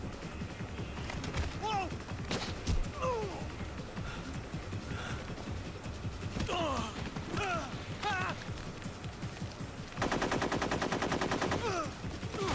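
Gunfire in Metal Gear Solid 3 Snake Eater crackles in rapid bursts, building to a dense automatic volley near the end, with voices talking and exclaiming over it.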